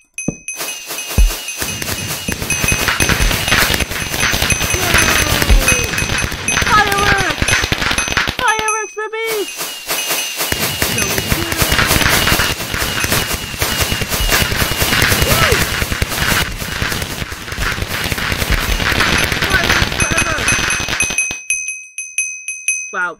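Fireworks in Minecraft go off in rapid, loud bursts of crackling pops and bangs, dense for long stretches with a brief pause in the middle, mixed with excited voices talking over them.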